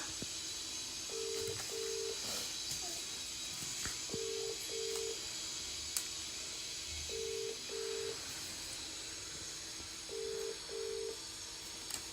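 Telephone keypad tones dialling a lucky draw winner: four separate bursts of paired beeps, evenly spaced, sound clearly over a steady background hiss with no talking.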